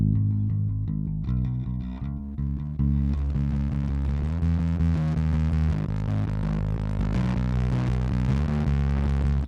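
A heavily distorted guitar tone from a Gamechanger Audio Plasma Pedal, recorded direct in, swells in gradually, fuzzy and buzzing, growing denser and brighter after a few seconds and holding steady.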